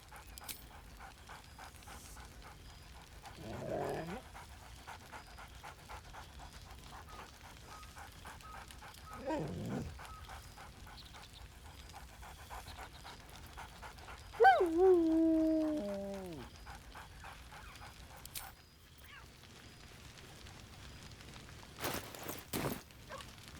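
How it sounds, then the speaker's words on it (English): A dog in the fantasy role-playing game Baldur's Gate 3 pants and whimpers in soft, scattered bursts over a quiet backdrop, with one louder, brighter bark-like yelp midway and a few light taps near the end. "barks merrily in something like agreement"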